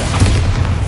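Bombarda blasting spell going off in the Hogwarts Legacy video game, a dense, loud low boom that rumbles steadily for under a second with no voice over it.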